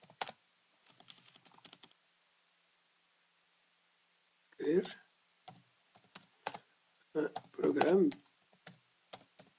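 Typing on a computer keyboard during a software demonstration: quick bursts of close, crisp key clicks separated by a pause, with someone speaking briefly over part of it.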